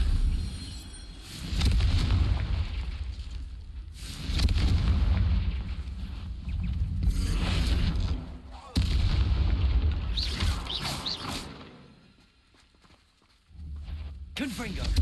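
Spell explosions from Bombarda and Confringo in the Hogwarts Legacy video game, a string of loud booming blasts with sharp bursts, repeated in quick succession under a shouting voice that calls out spells.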